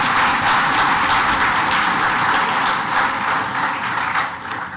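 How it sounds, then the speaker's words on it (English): An audience applauds at a medical school white coat ceremony. The clapping is loud and dense, fills the hall without a break, and tapers slightly toward the end. "was somebody clapping there? We could do that."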